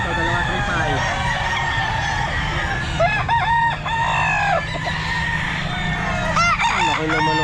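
A rooster crows loudly several times at a busy pet market, its calls rising over clucking fowl and a steady bustle of crowd noise, with people talking in the background.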